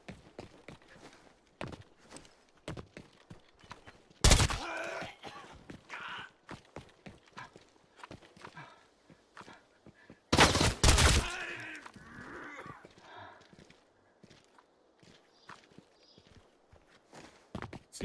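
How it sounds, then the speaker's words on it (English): Gunfire from players shooting in the video game Arena Breakout Infinite: two loud, sharp bursts stand out over a steady patter of in-game footsteps, with no talk. "Those are people shooting."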